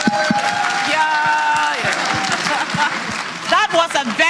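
Applause and crowd noise at an NPP USA annual delegate conference sit under a steady musical tone, with scattered claps and a voice breaking through toward the end.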